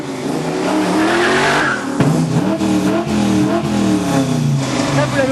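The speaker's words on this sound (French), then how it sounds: "Le son d'un moteur de Camaro peut se composer comme celui d'un orchestre." A Camaro V8 fitted with larger-than-stock headers and a modified free-flow exhaust revs loudly and close by, its pitch rising and falling in several throttle blips while a voice talks over it.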